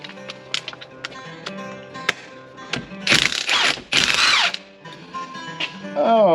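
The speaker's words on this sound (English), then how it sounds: "We use power tools." A handheld power tool, most likely a drill, runs in two bursts of a second or so each amid tapping and workshop clatter while fastening screws.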